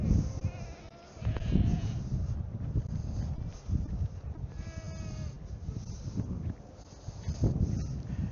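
Goats bleat repeatedly against steady wind noise, several calls overlapping at moderate distance with no talking.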